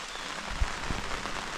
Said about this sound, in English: Just sitting enjoying the rain. It's a little rainy out